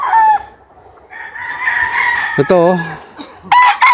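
Roosters and chickens at a gamefowl farm crow and cluck close by, with several distinct crows and clucks spread across a few seconds and a brief spoken word among them.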